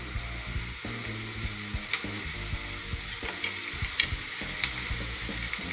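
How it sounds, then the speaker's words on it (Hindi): Chana dal roasts in a pan with a continuous close sizzling hiss, punctuated by regular light scraping ticks from stirring. "दाल भुनी जा रही है"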